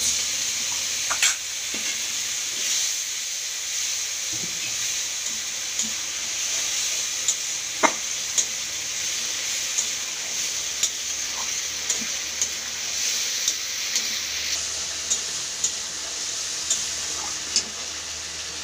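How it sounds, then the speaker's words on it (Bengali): River aar fish masala with cumin, ginger and garam masala sizzles steadily in a pan as water is added, giving a constant bright hiss with occasional sharp stirring clicks and pops. "একটু আমি জল দেবো।"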